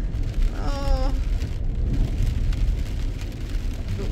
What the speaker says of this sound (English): The rain, I knew the rain was coming this way.